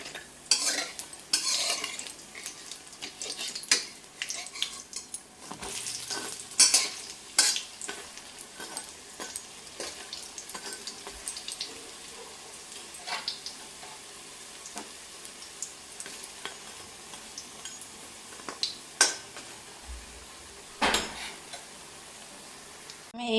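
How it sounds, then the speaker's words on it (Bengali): Lentil fritters (masoor dal boras) deep-frying in oil, with a steady broadband sizzle and repeated sharp clinks and scrapes of a utensil against the pan, fairly close and moderate in level, no talk. "আর এখানে আমি বাকি বড়াগুলো ভাজতে দিয়ে দিয়েছি।"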